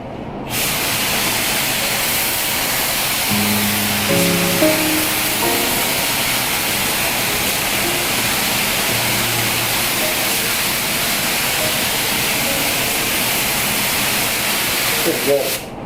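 Spray gun laying down a light, tacky first coat of paint on a Corvette body, a steady continuous hiss running the whole time at close range, with some faint background tones and clunks beneath it.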